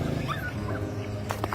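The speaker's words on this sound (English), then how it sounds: "a little puppy was crying for help." A little puppy trapped in a large woodpile cries out, thin whimpering yelps rising and falling over a murky low background, with a few sharper short cries near the end.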